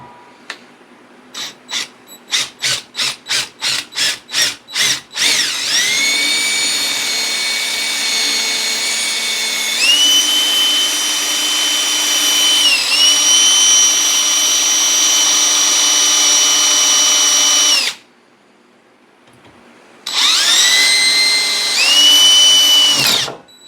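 A power drill whirs in a rapid stutter of short bursts, then runs loud and steady, its pitch shifting as it bites into a sidewalk ice scraper, stops briefly, and starts again.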